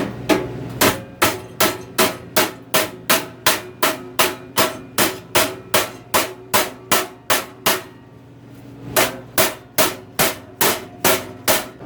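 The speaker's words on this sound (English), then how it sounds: "now I just take a ball peen hammer, or any flat-faced hammer" A ball peen hammer strikes sheet metal for a wood stove again and again in a steady, brisk rhythm, each blow a sharp ringing clang, with one brief pause midway.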